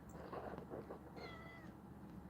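A cat meows a few times in quick succession, soft and fairly close, with no other sounds over it.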